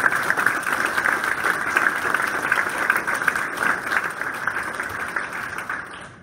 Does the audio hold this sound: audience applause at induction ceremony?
yes